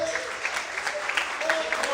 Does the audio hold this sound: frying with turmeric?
no